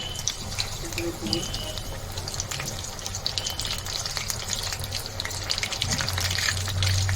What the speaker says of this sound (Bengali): গরম হয়ে গেছে এবার একটা একটা করে আমি ভেজে নেব এইভাবে